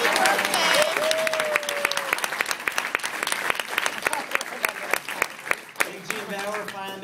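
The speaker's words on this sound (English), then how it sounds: "give him a round of applause" Audience applause fills a conference hall, steady dense clapping from a crowd with a few louder claps, continuing throughout with faint voices underneath.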